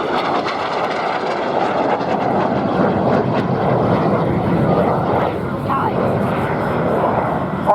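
Restored vintage aircraft flying at the RIAT air show, a loud continuous engine roar throughout with a narrator's voice talking over it.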